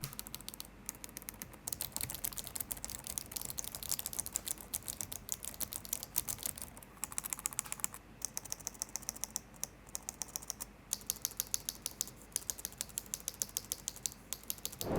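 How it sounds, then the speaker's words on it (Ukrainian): Rapid, steady clicky mechanical keyboard typing on an HP OMEN 17 gaming laptop, crisp and close, continuing throughout with brief pauses, no voices. "Це що, клікаюча механіка?"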